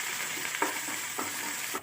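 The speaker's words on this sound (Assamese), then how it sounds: "এতিয়া পিয়াজটো আমি ইমান ৰঙাকৈ ভাজি নলওঁ।" Onions fry in hot oil with a constant sizzle, while a spoon scrapes and stirs the pan in a few distinct strokes.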